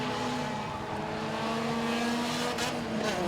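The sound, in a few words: race cars on track at Langley Speedway enduro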